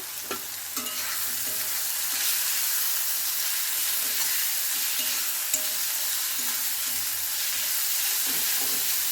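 Spice masala for a chicken gravy being stir-fried in a pan, with a steady, close sizzle and frying hiss running the whole time, broken by occasional scrapes and clinks of the stirring spoon.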